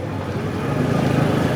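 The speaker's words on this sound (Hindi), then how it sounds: "आगे भी ट्रैफिक जाम है।" Road traffic idles and rumbles in a jam in Mehmoodabad, a dense low engine drone close by with no clear horns or voices.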